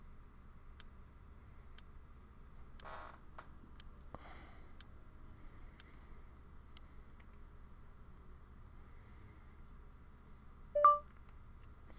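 A phone gives a single brief electronic beep near the end, alone over quiet background hiss with a few faint clicks and sniffs earlier.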